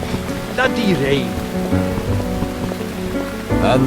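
Steady rain pours down over a dark, game-like scene, a continuous wash of falling water mixed with music and voices, loud throughout with a brief swell near the end.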